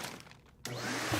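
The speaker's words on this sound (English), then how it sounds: "The vacuum is sucking all the air out of the bag" A vacuum cleaner pulls the air out of a bag: a brief hush, then a sudden loud steady whooshing drone kicks in and holds, close by.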